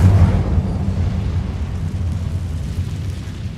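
The Incendio fire spell goes off in Hogwarts Legacy as a loud, deep fiery whoosh and rumbling burst that starts strong and slowly tapers off.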